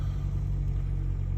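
A lifted Toyota Prius runs with a steady low engine rumble, close and even throughout, with no voices.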